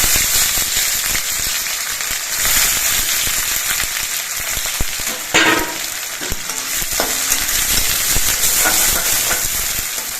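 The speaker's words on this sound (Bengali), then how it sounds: "তার জন্য তেলের মধ্যে অল্প একটু জিরে দিচ্ছি জিরে এটা লাল হয়ে ভাজা হয়ে যাওয়ার পর এর মধ্যে কিছু কোচানো পেঁয়াজ দিচ্ছি" Cumin and chopped onions frying in hot oil, a loud continuous sizzle with scraping stirring strokes and a few sharp pops and clatters along the way.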